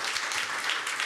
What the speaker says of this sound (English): No more applause, please.